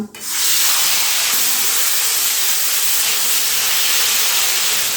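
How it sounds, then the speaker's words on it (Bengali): Prawns coated in salt and turmeric frying in hot oil, a loud steady sizzling hiss that bursts up suddenly and holds unbroken throughout. "ওই তেলের মধ্যে আমি ভেজে নেব চিংড়ি মাছগুলো"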